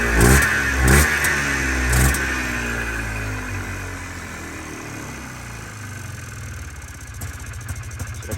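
A Polaris Trailblazer ATV starts on choke. Its engine catches with a few loud revving bursts, then drops into a steady, slightly uneven mid-pitched running drone close by.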